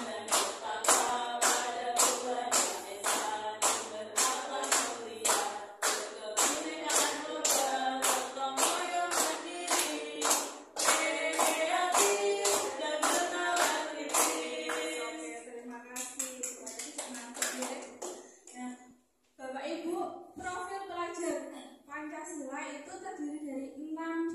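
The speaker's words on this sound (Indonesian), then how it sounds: "Bersama-sama sambil tepuk tangan" A group sings the Pelajar Pancasila chant together, clapping in a steady rhythmic beat through most of the passage before the claps thin out and the singing carries on with voices, including children's, sounding close and clear.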